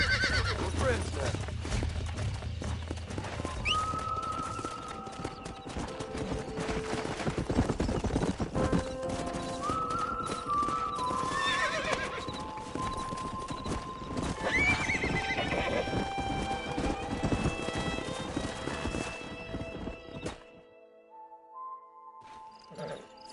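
In the video game Red Dead Redemption, hooves clop steadily while a stallion whinnies and snorts nearby, with people talking over the commotion before it fades to quiet.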